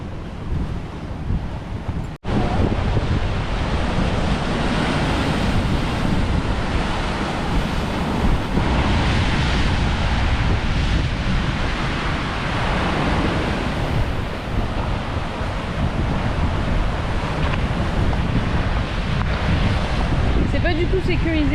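Ocean waves surge and wash onto the shore at Marie-Galante, a loud continuous roar mixed with wind buffeting the microphone, after a brief cut near the start.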